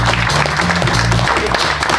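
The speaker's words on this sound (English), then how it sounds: "Round of applause for Jeff." A live gig crowd claps and cheers for the bass guitarist, a dense, loud burst of applause lasting a couple of seconds with a low musical hum underneath.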